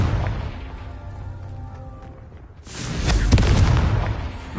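A Confringo explosive spell blast in Hogwarts Legacy erupts partway through as a loud, rumbling explosion and stays heavy and sustained to the end, following a quieter stretch of game ambience.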